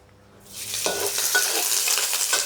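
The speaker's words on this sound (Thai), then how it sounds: "ใส่น้ำมันไปนิดนึงค่ะ ให้หอมๆนี่ค่ะ ขั่วพริกขั่วกระเทียม ขั่วหอมแดงค่ะพี่น้อง" Chili, garlic and shallots hit hot oil in a pan and break into a loud, steady sizzle with light stirring scrapes, close and continuous after a quiet start.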